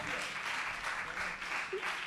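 An audience at a TV news presentation contest applauds a young presenter, a soft, steady wash of clapping heard from a distance throughout.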